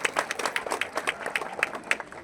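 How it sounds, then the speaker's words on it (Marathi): A crowd at a Shiv Sena political rally in Solapur claps in quick, scattered applause, steady and moderately loud for a couple of seconds. "विशेषतः या माय माऊलीसाठी जोरदार टाळ्या होणं गरजेचं आहे"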